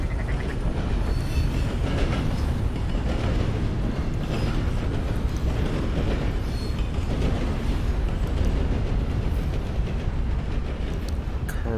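A train rolls past in the Red Dead Redemption 2 game world, a steady loud rumble of wheels and rail clatter holding for the whole span with no voices over it.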